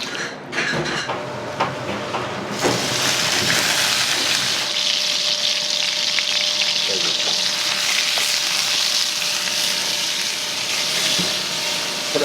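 Seasoned rice is stir-fried in a busy roadside drive-in diner kitchen, a loud continuous close sizzle with scraping and stirring over a steady kitchen hum.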